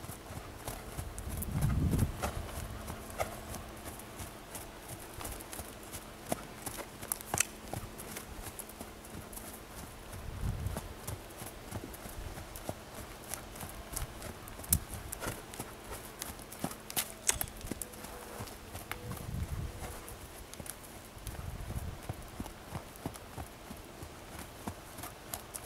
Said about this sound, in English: Mimi, trot. Good girl.